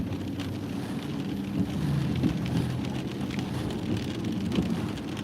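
Rain on a car while driving on a wet day near the Smokies, a steady close hiss and patter of drops over a low road rumble, continuous and moderately quiet, with no talking.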